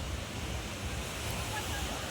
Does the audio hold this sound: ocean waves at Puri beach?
yes